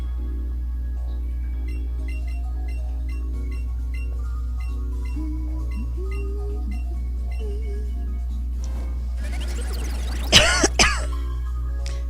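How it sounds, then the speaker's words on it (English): A person coughs and clears their throat in a short harsh burst near the end, close to the mic, after a long stretch of quiet electronic hum and faint background tones. "So excuse the coughing."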